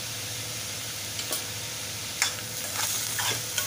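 Onion being sautéed with turmeric in a pan, a soft continuous sizzle with a few sharp scraping stirs of a spatula, quiet and close with no voices.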